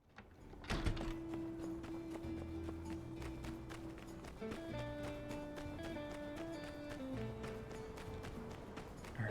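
Rhythmic horse hooves clip-clop in My Time at Sandrock over a steady game music bed, with tonal melody lines running throughout and a few sharper thumps near the start.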